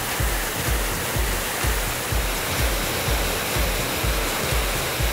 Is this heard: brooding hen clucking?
no